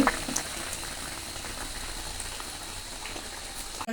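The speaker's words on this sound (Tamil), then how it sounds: "இந்த கறியை இங்கே பாருங்க உங்களோட முட்டை கறி எப்படி வட்டிவா கொதிச்சு ரெடி ஆகிட்டுரு" Egg curry bubbles at a steady boil in a pot, a dense close burble of popping bubbles with no talk.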